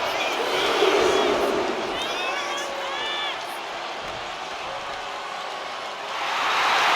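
A wrestling arena crowd in the WWE 2K26 video game keeps up a steady roar and cheer, swelling near the end, while a commentator talks over it.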